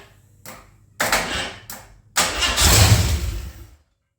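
Ford 302 V8 engine cranking over on its battery without firing: short bursts of loud, close starter-motor churning, separated by pauses, ending in a longer crank that stops abruptly.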